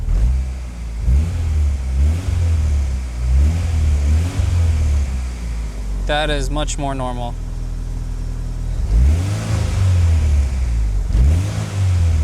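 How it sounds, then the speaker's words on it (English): A turbocharged Honda Integra revs repeatedly in close, rhythmic blips that rise and fall over its idle, and someone speaks briefly in the middle. "So now let's give it some revs."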